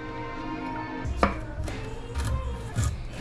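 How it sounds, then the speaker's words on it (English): A knife chops fresh ginger on a cutting board for a Hainanese chicken sauce, giving soft irregular taps close by. "Finally chopping up our ginger."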